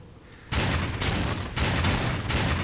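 Gunfire in the video game Darksiders 2, a run of loud sustained blasts in several long bursts separated by brief gaps, close and dominant with no talking.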